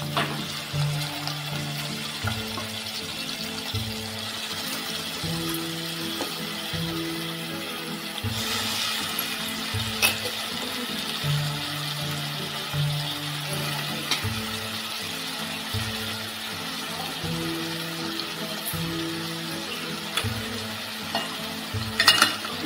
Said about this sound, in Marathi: आता आपण याच्यामध्ये हा जवळा टाकून घेऊया